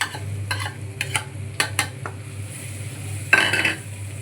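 A spoon stirs fish mash with turmeric in a pan, giving scraping clinks and soft sizzling in irregular strokes, with a louder scrape near the end and no talking.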